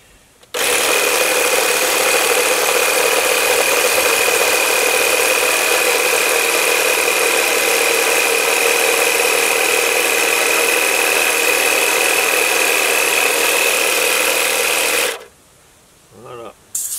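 Compressor running steadily at close range while inflating a ride-on lawn mower tyre, a loud continuous mechanical hum with a fixed whine lasting about fifteen seconds, then stopping abruptly.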